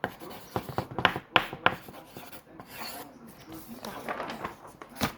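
Ballpoint pen scratching across paper while writing homework, a steady rubbing rasp with short strokes and pauses, fairly close, with some voices in the background.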